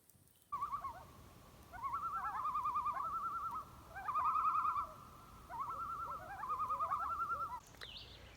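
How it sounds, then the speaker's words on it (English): An owl calls repeatedly from across a lakeside campsite in autumn, a series of clear, rhythmic hooting phrases at moderate distance over a quiet night background, with no talking. "Got an owl right across from my campsite."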